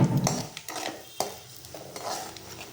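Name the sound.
stirring and frying vadagam in oil in a pan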